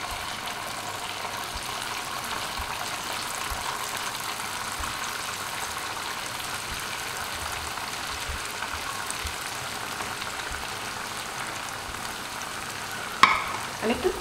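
Semolina rasapuli pitha fry in mildly hot oil in a wok, giving a soft, continuous sizzle and bubble with a brief clatter near the end; no one speaks.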